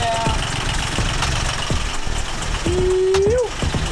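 A boat engine runs steadily after a repair, a continuous mid-pitched mechanical drone with knocking pulses, close and fairly loud, while a voice speaks briefly over it.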